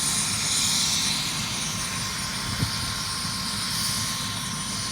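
A medevac helicopter engine running up after a shooting, a steady whining turbine drone mixed with a broad rushing roar, moderately distant and continuous, with one brief thump partway through.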